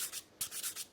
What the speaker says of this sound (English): abrasive sheet, 4-aught sandpaper. A sheet of sandpaper.